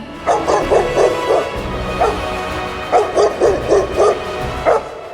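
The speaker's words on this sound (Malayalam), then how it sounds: "റിങ്കു ഓടിച്ചെന്ന് സ്കൂളിൽ സെക്യൂരിറ്റി നിൽക്കുന്ന ചേട്ടന്റെ അടുത്ത് ചെന്ന് കുരച്ചുകൊണ്ട് ബഹളമുണ്ടാക്കി." A dog barks repeatedly at close range in quick bursts, a cluster of yaps, a pause with a single bark, then another rapid run.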